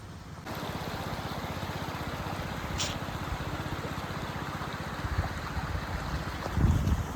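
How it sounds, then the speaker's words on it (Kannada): Water rushes steadily in the distance, like a waterfall heard across Malnad paddy fields, as a faint, continuous wash with a few light knocks near the end and no speech. "ನೀರು ಸೌಂಡ್ ಎಷ್ಟು ಚೆನ್ನಾಗಿ ಕೇಳಿಸ್ತಿದೆ ಅಲ್ಲ."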